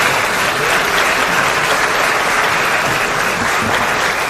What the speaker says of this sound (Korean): 여러분들께서 어, 격려의 의미를 담아서 박수 한번 쳐주시면 좋겠습니다.